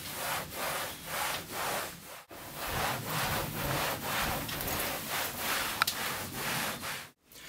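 Rhythmic back-and-forth wiping strokes across a wall during a deep clean, each pass a soft broadband rub, steady and close, with two brief silent breaks.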